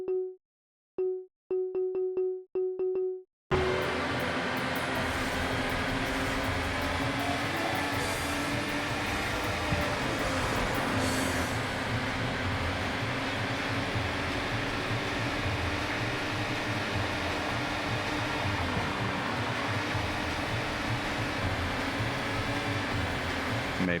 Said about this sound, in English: Could do with the engine being a bit louder now I'm on manual gears.